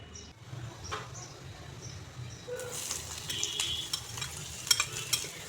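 Onion, garlic and slit green chilies fry in hot oil for a pumpkin-leaf paste dish, a soft crackling sizzle that grows busier and louder partway through, with faint stirring taps and no talking.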